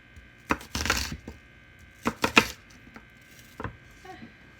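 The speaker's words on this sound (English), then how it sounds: "Cut it 1/4 inch, 1/2 inch thick so that it's diced." A knife dices food on a cutting board with a few clustered chopping knocks, close and fairly quiet, separated by short pauses.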